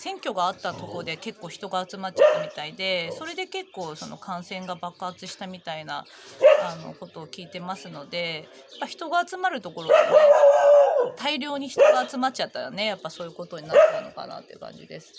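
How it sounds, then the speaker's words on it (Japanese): Dog barking outdoors at a home in Odisha, India, intermittent yips and barks scattered under steady close talk by someone speaking. "犬が鳴いてますけれども"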